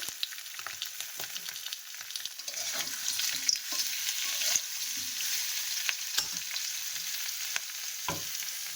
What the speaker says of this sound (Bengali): আলুটাকে ছাড়িয়ে রেখেছি তেলের উপরে দিয়ে দিলাম।